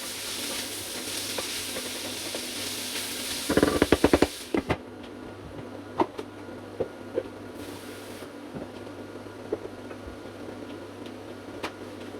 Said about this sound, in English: So our onions are cooking now